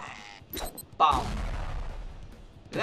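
A bomb blast in a stickman fighting video game: one sudden loud boom partway through, decaying into a rumbling tail, with brief sharp game effects before it.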